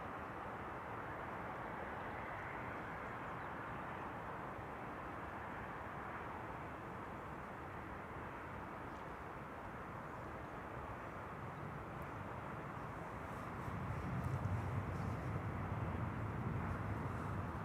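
An airplane comes in to land on runway 22 at Amsterdam Schiphol, heard as a steady, distant broadband roar that holds level and then swells slightly louder in the final few seconds.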